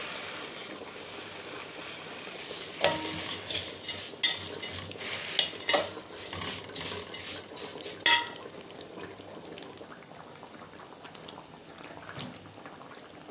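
Vermicelli stirred in a pot for rice with vermicelli, with a soft background sizzle under repeated sharp scrapes and clinks of a spoon against the metal that come in irregular bursts and then ease off.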